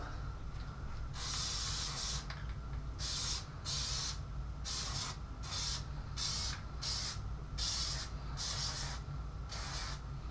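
An unshaken Plasti Dip spray can lays a second coat on a car windshield in repeated short hissing bursts of spray, close and steady, over a low background hum.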